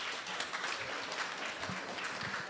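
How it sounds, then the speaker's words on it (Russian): Faint applause from an audience at a live meeting with a film director, a soft, steady patter of clapping heard from a distance with a few low thumps in the room. "пожалуйста, специальные аплодисменты Алисе Таежной"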